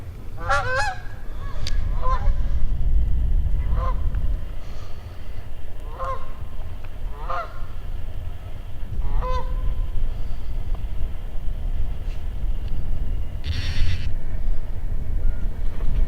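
Geese honk repeatedly over flooded timber during a goose hunt, a scattered series of nasal calls at moderate distance above steady wind and low rumble.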